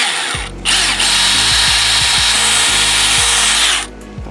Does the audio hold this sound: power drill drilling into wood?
yes